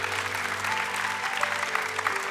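A church congregation claps in a steady wash of applause throughout, moderately distant and even, with faint sustained organ or keyboard tones underneath.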